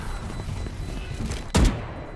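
A single sharp gunshot cracks out loud and close from a Valorant tournament match, a lone burst standing above a steady low game ambience, with no voices over it.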